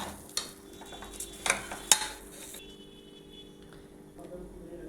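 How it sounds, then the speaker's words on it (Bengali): Rice coated with turmeric is stirred in a pan, producing soft scraping and a few sharp spoon clinks against a faint background hiss. "এবার এটা হালকা একটু নাড়াচাড়া করব চালটা"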